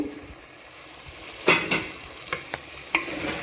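Tomato with ginger garlic paste and salt sautés in a pan for a quail gravy, a low sizzle broken by a few distinct spoon scrapes and clinks against the metal, close by with no talking.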